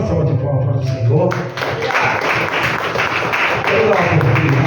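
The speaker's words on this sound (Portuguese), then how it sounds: "Uma salva de palmas para o Senhor" A church congregation applauding during a service, steady rhythmic clapping mixed with voices, fairly loud and close, continuing throughout.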